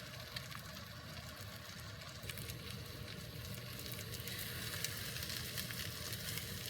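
Eggs sizzle steadily in a hot pan for a breakfast burrito, a continuous close crackling hiss with faint spatters and no pauses or talk.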